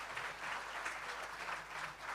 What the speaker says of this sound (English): Round of applause for their instructor.